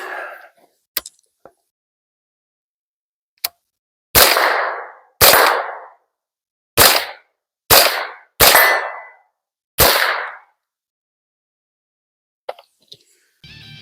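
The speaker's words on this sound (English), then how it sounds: "the recoil impulse with the flow through suppressor, the flow through cap, makes it a pleasure to shoot" Sharp, loud gunshots from an AR-15 rifle fitted with a flow-through suppressor, seven spaced reports ringing out outdoors after a few faint clicks.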